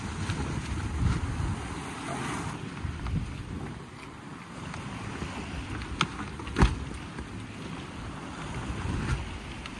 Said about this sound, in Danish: kan man godt mærke, at vinden den begynder at tage til.